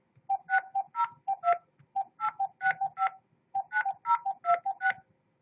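A telephone keypad sends DTMF tones while a phone number is entered at an automated security-company menu, about fifteen short crisp beeps in quick clusters with a brief pause midway, loud and close with no talk.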